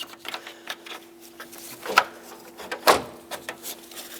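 Radiator retaining clips on a 2014-2021 Mazda 6 slide into place, giving a string of close plastic scrapes and small clicks, with two sharper knocks standing out near the middle.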